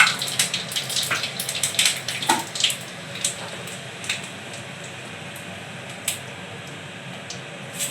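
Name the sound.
eggplant frying in a pan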